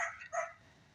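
A dog gives a couple of quick, moderately close barks, then fades into quiet room noise.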